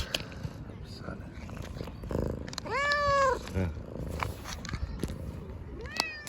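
A stray cat purrs and makes short vocal sounds up close while being offered wet food, with a rising meow-like cry midway, while a person talks softly nearby.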